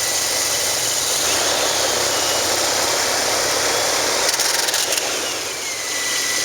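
A 2003 Chevrolet S10 Blazer with a 4.3 automatic and four-wheel drive idles steadily with a loud, constant engine drone, and its damaged fan, missing a broken blade, adds a rough whirring rattle throughout.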